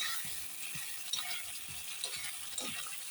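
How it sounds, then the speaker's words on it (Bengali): Masala of coriander, cumin and turmeric powders with salt is stirred slowly in a pan for a paneer curry, giving a soft sizzle with recurring scraping strokes of the spoon, close and without talk. "দিয়ে মশলাটা সুন্দর করে এবার কষিয়ে নেব আস্তে আস্তে করে"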